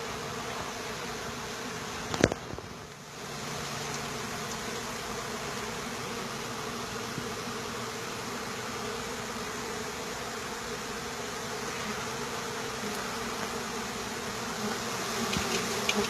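Honeybees swarm in a dense, steady buzz during a live removal from a house soffit, close and loud throughout, with a brief knock early on and no talking.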